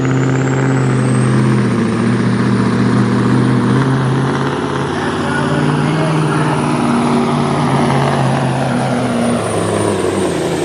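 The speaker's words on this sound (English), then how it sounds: "That sounds like a V8 in that one." A Mack truck with a V8 engine roars loudly and steadily at a tractor pull, its engine note rising and holding for the full stretch without a break, alongside a high whining tone.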